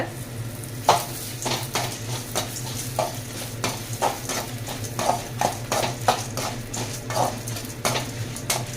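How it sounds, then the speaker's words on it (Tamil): Dried red chillies and tamarind sautéing in a pan for a spinach chutney, with a low steady sizzle under repeated sharp clinks and scrapes of a metal spoon against the pan, no voices. "இதிலே நம்ம காஞ்ச மிளகாவையும் இந்த புளியையும் போட்டு ஒரு வதக்கிக்கலாம்"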